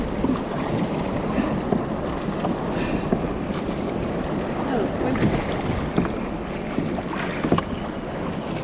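Ocean rollers beyond the breakers heard from aboard a small boat, a continuous loud rushing wash mixed with wind buffeting the microphone and occasional splashes and knocks against the hull.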